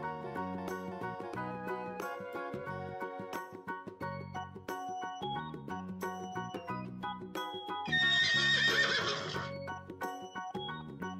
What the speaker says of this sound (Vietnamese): Con ngựa chạy rất nhanh.